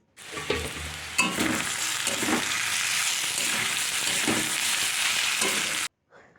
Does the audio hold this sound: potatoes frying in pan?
yes